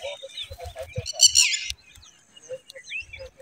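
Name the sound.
bird calling noisily near its eggs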